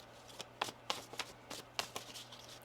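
Tarot cards shuffled by hand: a run of sharp riffling snaps and soft taps at an irregular rhythm, close and fairly quiet, with no voices.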